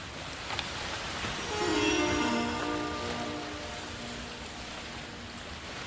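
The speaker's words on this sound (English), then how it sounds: "Yes, water sounds." Broad, washing water sounds within a song, a rushing surf-like hiss that swells in the middle, with faint tonal musical lines drifting through.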